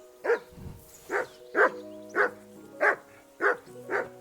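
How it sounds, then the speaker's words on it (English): Dog barking in the medieval video game Kingdom Come: Deliverance II, a steady run of seven sharp, evenly spaced barks at close range over a soft musical background. "whistle at that mutt of yours to stop barking"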